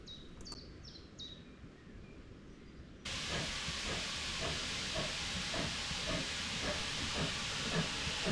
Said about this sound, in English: At Boscombe Junction, you can still see steam trains on the Heritage Line